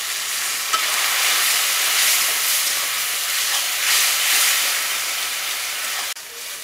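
Spice masala of chilli and turmeric powder frying in a pan after a splash of water goes in, a close, even hissing sizzle that holds steady and then drops suddenly near the end.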